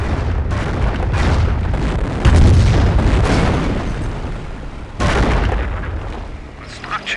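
Incendiary artillery strikes in the Company of Heroes war game, heavy booming explosions with a rolling roar, two big blasts a few seconds apart over crackling fire and battle noise.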